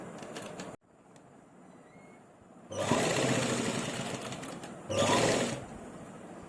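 A sewing machine stitches a zip pocket onto a salwar in two quick bursts of rattling mechanical whirring, with the first longer than the second and quieter handling noise before them.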